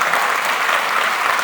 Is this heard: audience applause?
yes